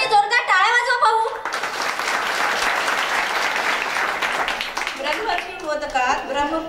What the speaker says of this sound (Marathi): सर्वांनी जोरदार टाळ्या वाजवा पाहू